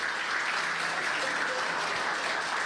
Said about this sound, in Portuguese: Aplauda o Senhor Jesus pela vida do cabelo